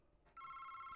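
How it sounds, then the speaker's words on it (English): A telephone starts ringing partway through in a horror video game, a bright electronic trill that is fairly quiet and sounds alone after a brief soft noise. "Oh wait, I haven't even answered the phone yet."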